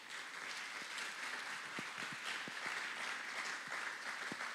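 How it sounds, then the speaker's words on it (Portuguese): A church congregation applauds together, a broad, fairly soft wash of clapping that holds steady throughout with a few sharper individual claps standing out. "Dê uma salva de palmas ao Senhor"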